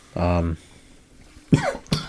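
A short cough up close after sipping whiskey, followed by two quick rough bursts like throat clearing or further coughs.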